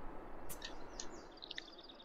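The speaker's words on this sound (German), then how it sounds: "Hier so noch Vögelchen." Small birds chirping in the video game The Sims 4, a few brief high tweets and chirps scattered over a soft ambient background, faint and without talking.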